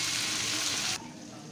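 Chicken pieces frying in a pan for chilli chicken, a bright, steady sizzle close up that cuts off abruptly partway, leaving a quieter background.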